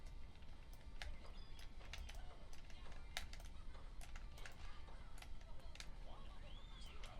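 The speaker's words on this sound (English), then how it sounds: "we've got some really interesting mouse click style buttons there" Clicky micro-switch buttons on a Nintendo Switch controller, pressed in quick irregular bursts of sharp, close taps much like typing on a keyboard, over a low background hum.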